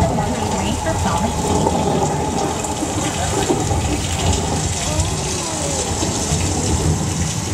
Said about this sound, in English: To create a rain, we use an overhead sprinkler system that shoots up the water onto the sky, letting it fall down the way rain falls.